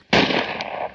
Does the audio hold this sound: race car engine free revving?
no